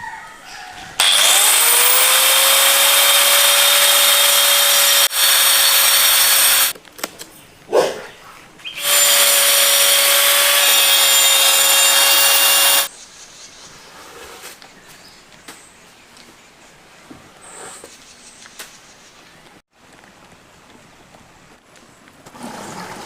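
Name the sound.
cutting an eggshell for a craft planter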